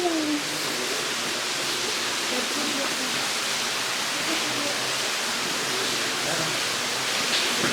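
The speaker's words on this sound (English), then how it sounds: "Waterfall." A waterfall inside Blue John Cavern gives a steady, full rushing roar that holds at an even level throughout, with faint voices in the background.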